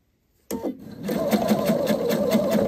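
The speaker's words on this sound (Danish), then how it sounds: "Og så syr jeg med en centimeters afstand hele vejen rundt" A sewing machine stitches a zippered collar with a one-centimetre seam allowance, a steady close-up whirring with a regular rhythmic needle beat starting abruptly after a brief silence and running evenly to the end.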